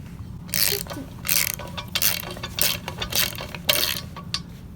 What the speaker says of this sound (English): You want to ratchet them for me?